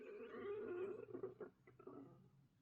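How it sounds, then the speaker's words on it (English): A stomach growls in a short, faint gurgling rumble that wavers and bubbles for a couple of seconds, then breaks into a few softer squelches as it fades, close and alone with no talk. "Oh my god, that was my stomach."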